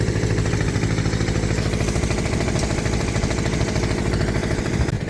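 Ford farm tractor engine running on a village farm, a loud, steady, close diesel chug with a rapid even knocking rhythm and no voices over it.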